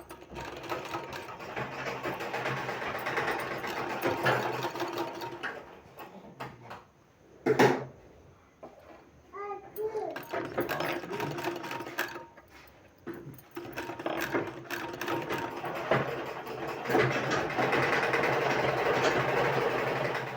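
A sewing machine stitches a pearl-embellished sleeve design in long steady bursts, with a brief pause and some clunks of handling in the middle before the whirring stitching resumes.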